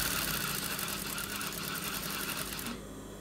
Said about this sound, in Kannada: ಇದನ್ನ ಈ ತರ ಇಟ್ಕೊಂಡು ಸ್ಟಿಚ್ ಮಾಡಿ ಮುಗಿತು